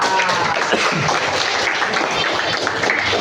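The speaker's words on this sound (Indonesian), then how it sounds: "Coba tepuk tangan buat Adiba." Classroom applause for a pupil named Adiba during an Indonesian computational-thinking lesson: a dense, steady wash of many hands clapping together, sustained evenly for the whole stretch with no break.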